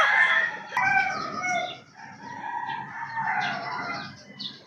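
Chickens clucking and crowing close by, several birds calling over one another in a continuous, busy farmyard chorus.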